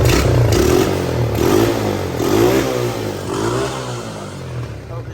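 A Honda 200SX engine runs and revs unevenly after a choked cold start, a loud buzzy rasp that swells and dips with throttle blips, with some mechanical clatter throughout.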